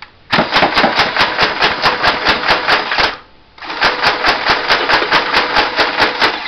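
A modded Nerf Vulcan EBF-25 toy gun firing belt-fed darts in a loud, rapid mechanical rattle of evenly spaced shots, briefly pausing about halfway before the fast bursts resume.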